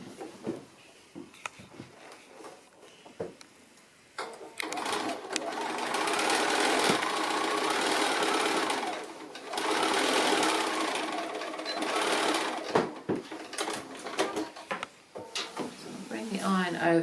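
A sewing machine runs in bursts while stitching the seams of a fabric basket made from fat quarters, with a steady whirring hum and brief pauses between runs and a voice talking over parts of it.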